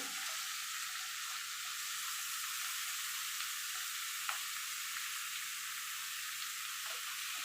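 Chopped bottle gourd hitting hot spiced oil in a pan, a loud, even hiss of sizzling that holds steady from start to finish, with a few faint scrapes and no voices.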